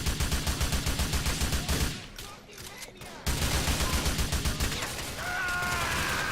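Sustained, dense gunfire in Grand Theft Auto IV: rapid overlapping shots as covering fire, loud and continuous with a brief lull in the middle before the barrage resumes.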